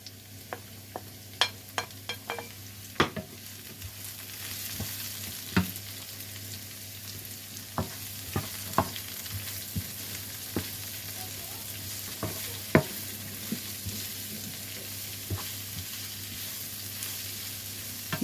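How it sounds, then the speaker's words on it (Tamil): Chopped leeks sautéing in a pan, a soft steady sizzle with a spoon scraping and clinking against the pan at irregular intervals, close and fairly quiet, no voices. "இப்போ லீக்ஸு வதங்கி வந்துடுது."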